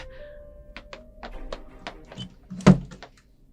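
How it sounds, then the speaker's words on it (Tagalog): A door is pushed open after its padlock has been broken, a string of light clicks and taps ending in one solid close thunk. "Ngayon, bubuksan ko ang pintuan."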